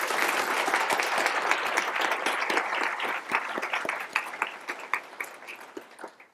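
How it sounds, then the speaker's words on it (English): Applause from a large audience at a HOSA opening session for Captain Reed, dense and sustained at first, then thinning into scattered individual claps as it dies away. "Again, could we have another round of applause for Captain Reed?"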